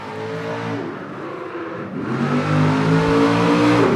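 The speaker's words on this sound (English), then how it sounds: "Tell you what, the truck looks great, doesn't it? Sounds great." A fire truck drives by with its engine revving loudly, pitch rising and falling with throttle swells and climbing stronger in the second half, close and dominant with no talk over it.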